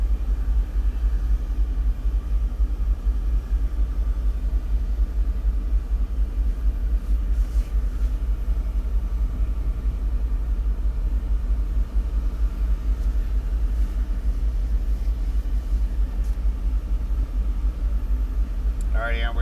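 A Ferrari 488 GTB rolls slowly out onto a race track, its engine producing a low, steady rumble close by with no rises in revs.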